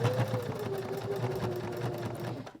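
Close sewing machine stitching near the edge of fabric for a DIY sewing kit pouch, a quiet, steady mechanical whir with a rapid needle patter and a faint tonal hum, no speech.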